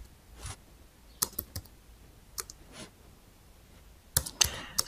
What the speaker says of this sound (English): I'm just typing a random phone number here.